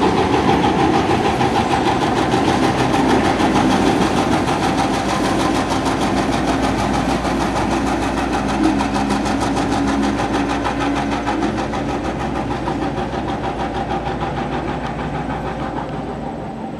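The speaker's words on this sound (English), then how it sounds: "The engine is passing us." A heavy diesel locomotive engine passes during yard work, rumbling steadily and loudly throughout, a deep droning mechanical hum with a fine rhythmic chatter, fading only slightly toward the end.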